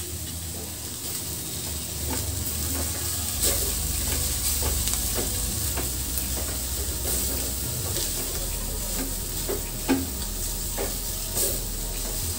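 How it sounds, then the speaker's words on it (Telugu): Drumstick leaves fry with masala powder in a hot pan, a continuous sizzle broken by repeated spatula scrapes and stirring clicks, close and fairly loud. "మసాలా పొడి ఇందులో వేసి ఇంకా 2 నిమిషాలు వేయించుకోవాలి"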